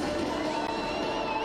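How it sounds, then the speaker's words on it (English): Crowd cheering and applauding at the Formula E podium after the Punta del Este ePrix in Uruguay, a steady, dense wash of noise with distant shouts running throughout. "A round of applause"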